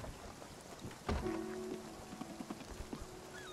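Steady rain patters in the video game Spiritfarer, a soft continuous hiss with a few faint drips, broken by one sudden louder thump and a short tonal sound partway through.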